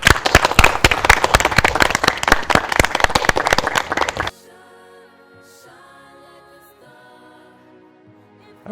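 An audience claps loudly and continuously at a fashion catwalk event, dense applause that cuts off abruptly midway and gives way to soft background music.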